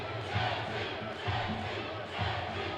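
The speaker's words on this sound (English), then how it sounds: "Crowd behind us chanting JT for Jonathan Tan here." Crowd at an MMA event in San Francisco chanting for a fighter, a rhythmic, rising and falling roar of many voices in a large arena, heard from ringside.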